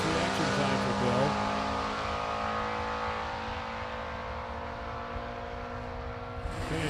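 Drag racing at a shootout event, a 1969 Camaro with a 250 cubic inch six-cylinder and a 220 horsepower 283 Chevy II: loud sustained engine drone and rising revs, with a commentator talking over it.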